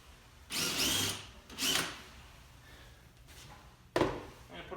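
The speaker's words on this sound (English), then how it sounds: "My little trick for doing that is I drill a pilot hole" A power drill bores a pilot hole into a wall in two short whirring bursts, then a sharp knock follows, with quiet room sound between the bursts.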